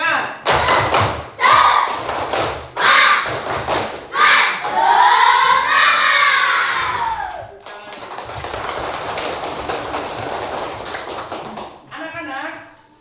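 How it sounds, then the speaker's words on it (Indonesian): Schoolchildren in a classroom perform a rhythmic spirit clap, sharp group claps landing in a patterned beat with loud chanting voices between and over them, then a looser stretch of claps and chatter before a teacher's voice. "Satu kali tepuk semangat."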